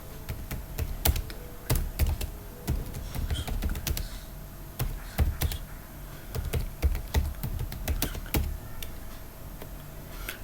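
Rapid typing on a computer keyboard while logging into a PostgreSQL database, with irregular clicks and short bursts of keystrokes close by and no talk.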